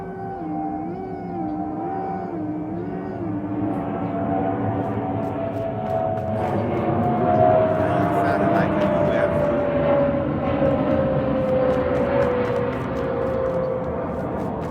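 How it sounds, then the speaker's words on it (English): An airplane passes overhead with a drawn-out, eerie droning whine that slowly shifts in pitch, steady and fairly loud, while a person talks over it. "So now we got the plane sounding like a UFO."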